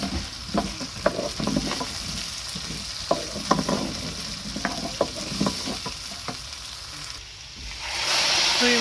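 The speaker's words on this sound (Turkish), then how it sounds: "Şöyle karıştırıyoruz." Turmeric being stirred into a pot of soup on the stove: a spoon scrapes and taps against the pot in an irregular run of close clicks over a low frying sizzle, then the stirring stops and a steady hiss remains.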